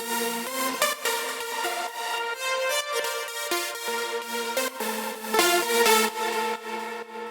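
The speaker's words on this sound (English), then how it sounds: "the saw layers sound like this." Layered saw-wave synth leads for a progressive house track play a bright, buzzy chord melody with rhythmic gaps and steady loudness, heard alone without any voice.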